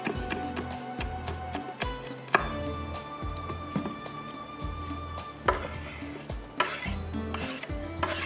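Green chillies being finely chopped with a knife on a board, rapid, close, rhythmic thuds in uneven bursts with brief pauses between runs.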